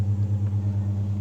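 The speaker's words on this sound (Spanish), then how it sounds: "ese sonido, ese es el trueno." A church pipe organ's thunder effect stop, sounded on the Gospel-side organ at a Latin American Baroque music festival, makes a deep, sustained rumble that pulses steadily, loud and alone with no voices.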